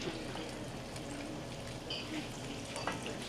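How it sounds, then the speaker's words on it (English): Floured food frying in a pan during an Italian cooking class, a steady soft sizzle with faint stirring and liquid sounds, fairly quiet and continuous throughout. "We're going to fry this too."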